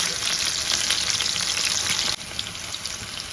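Chicken 555 starter pieces fry in hot oil with a dense, crackling sizzle that runs continuously and drops slightly in loudness partway through, close up and without talking.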